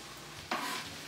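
Carrots drop into a hot pan already holding yellow and green onions, setting off a sudden burst of close sizzling that then settles into a steady fry.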